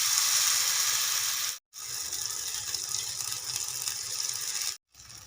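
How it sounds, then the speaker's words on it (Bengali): Semolina batter poured onto a hot oiled tawa, a loud steady sizzle and crackle of frying that continues throughout with two brief silent gaps. "তেল গরম হয়ে গেছে, যে সুজির বেটারটা আমি করে রেখেছিলাম দিয়ে দেব তাওয়ায়।"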